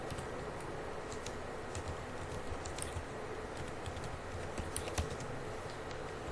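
Fingers typing steadily on a computer keyboard, a continuous run of light, close key clicks over a constant background hiss, with no talking.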